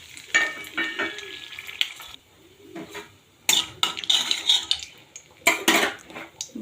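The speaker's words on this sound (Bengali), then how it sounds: "ফোড়নে দিচ্ছি আমি গোটা গরম মশলা, শুকনো লঙ্কা আর তেজপাতা একটা।" Whole garam masala, dry red chillies and a bay leaf spluttering in hot oil for a tempering, heard as loud bursts of sizzle and spatter separated by short quiet gaps, with the light clink of utensils.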